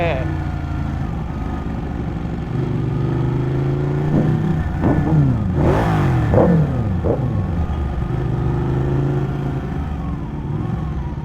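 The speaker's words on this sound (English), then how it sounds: "Oh, red hot Porsche" A red Porsche's engine revs on a city street near an airport, rising and falling pitch sweeps over a steady traffic rumble, loud and close, with voices talking over it at times.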